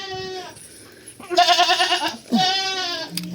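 Goats bleat several times close by during hoof trimming, a quavering cry followed by a second long bleat after a brief pause, with a few softer calls at the start.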